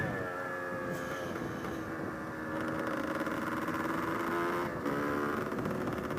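Motorcycle engine held at a steady low rumble while crawling through traffic, heard close and continuous with harmonic drone and slight rises in pitch, plus faint wind and road noise.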